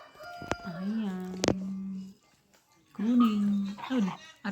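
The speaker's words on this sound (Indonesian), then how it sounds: "Ayam." A chicken clucks and squawks close by in two drawn-out bursts separated by a brief quiet pause.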